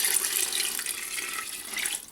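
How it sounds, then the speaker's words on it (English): Water poured into a cooking pan for medieval pottage with grated nutmeg, a couple of litres going in as a steady, close splashing stream, fairly quiet with no voices. "What we're also going to do is add in more water."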